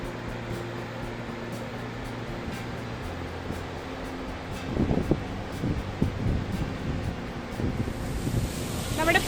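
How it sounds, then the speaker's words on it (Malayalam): The Pambar river flows near Marayoor, giving a steady broad rush of water with gusty wind noise, and voices speak over it now and then. "നമ്മുടെ പുറകിലേ ഒഴുകുന്ന നദിയുടെ പേരാണ് പാമ്പാർ"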